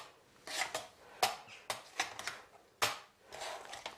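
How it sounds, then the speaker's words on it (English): Potatoes mashed by hand in a home kitchen, made for a chicken and leek pie: a series of sharp, close thumps and scrapes of a masher against a pot, irregular and spaced, with no talking. "Okay, potatoes are mashed nicely."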